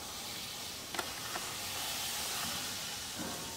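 Hot ghee moyan poured into gujiya dough for coconut gujiya, giving a soft, steady hiss with a couple of faint clinks, quiet and close.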